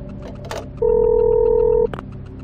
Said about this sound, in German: Ich rufe an.